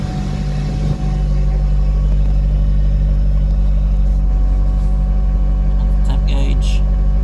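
A Nissan SR20DET engine at operating temperature idles with a steady, loud low rumble throughout, under a faint voice.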